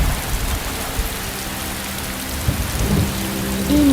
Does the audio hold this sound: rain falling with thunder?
yes